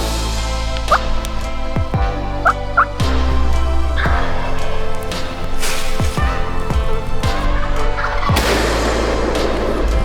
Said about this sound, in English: We're on a turkey for opening day in New England.